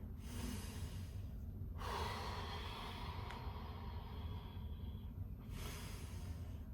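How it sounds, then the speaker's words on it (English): Slow, steady breathing during a gentle rocking yoga stretch, with soft airy inhales and exhales and a rustle of movement, close and quiet with no talking. "We're just breathing"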